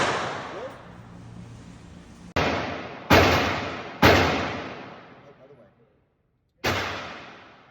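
A firearm fires four sharp, loud shots at irregular intervals, each followed by a long ringing decay, with quiet gaps between them.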